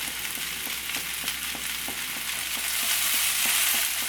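Okra and potato pieces are stirred in a hot pan while they sizzle steadily. Soft scraping taps of the spatula repeat over the constant frying hiss, and no one speaks.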